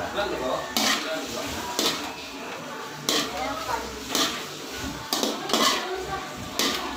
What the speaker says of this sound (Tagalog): Lambingin natin sa paghalo para lalong sumarap ang ating niluluto